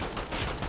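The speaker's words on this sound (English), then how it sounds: "Who was shooting me, bro?" Rapid gunfire from automatic weapons in a Fortnite Season 4 live-event match, a dense steady crackle of shots with no pauses, moderately loud and with no voices.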